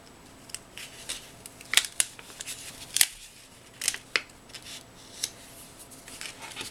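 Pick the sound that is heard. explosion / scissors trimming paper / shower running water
scissors trimming paper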